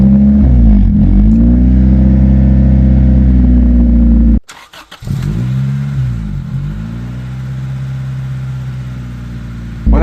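A Honda Del Sol VTEC engine with a straight-pipe exhaust rumbles loudly and revs up and down, breaks off abruptly, then fires again and resumes throaty revving close by.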